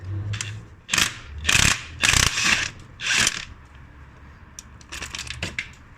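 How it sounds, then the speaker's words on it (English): A ratchet with a swivel socket undoes the starter motor bolt on a 2001 Nissan Micra K11, loud bursts of close metallic clicking in several strokes with brief pauses, then lighter ratcheting. "to undo the starter motor bolt going through from the engine side into the starter motor with a swivel socket on it"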